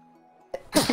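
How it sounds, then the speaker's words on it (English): One short, sharp sneeze bursts out loud and close after a quiet moment with a faint low hum, ending in a quick breathy tail. "bless you"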